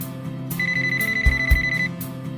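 A cordless home phone handset rings with a bright electronic warble in two bursts, loud and close, over soft background music.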